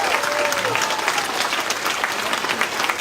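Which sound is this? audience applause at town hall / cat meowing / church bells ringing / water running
audience applause at town hall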